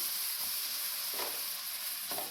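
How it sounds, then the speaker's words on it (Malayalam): Water poured onto a hot dosa griddle gives a steady, loud hiss and sizzle that fills the whole moment, with a few brief scraping bursts over it. "ഇനി നമ്മൾ ചെയ്യുമ്പോഴും വെള്ളം ഇങ്ങനെ ഒഴിച്ചു കൊടുക്കണം."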